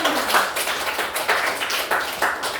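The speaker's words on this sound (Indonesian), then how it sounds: "Tepuk tangan dulu buat dia." Classmates applaud a student, a dense patter of many hands clapping continuously and fairly close, with no voices standing out over it.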